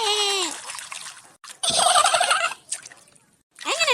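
A loud splash as someone jumps into a stream, set between high, excited vocal squawks before and after.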